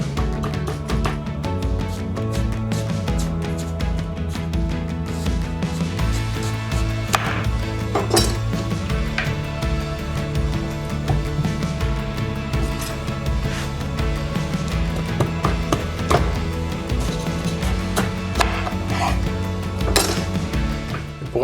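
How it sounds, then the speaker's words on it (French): A sharp knife cuts a hard-skinned pumpkin in half in a kitchen, giving repeated knocking and clinking hits against a steady, continuous background sound throughout. "quand on coupe des citrouilles, on fait très attention"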